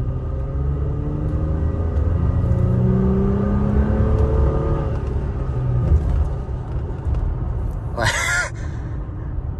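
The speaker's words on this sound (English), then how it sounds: "Let's give it a little gas." A Toyota Tacoma engine rumbles under a light throttle blip, the pitch climbing smoothly and then settling back to idle, loud and close, with a brief high squeak near the end.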